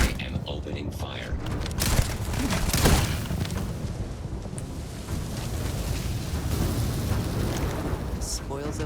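Gunfire in the Starfield video game, a dense barrage of shots and booming blasts running continuously through the clip with a loud burst near the start.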